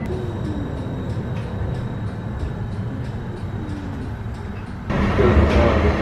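An Edinburgh tram rolls along the line toward the city centre, a steady interior rumble with faint rhythmic clicks from the rails that swells louder near the end.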